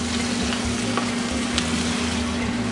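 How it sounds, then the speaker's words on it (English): Steady crackling sizzle of plantain frying in hot oil, continuous and close, with a low hum underneath and no voices. "I need it to fry to the extent that the oil is like floating on top of it"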